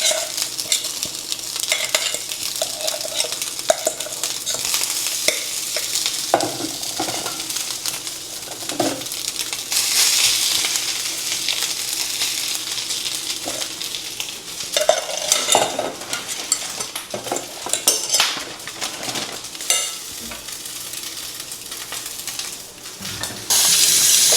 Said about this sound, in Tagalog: Fried rice ko na lang to lahat.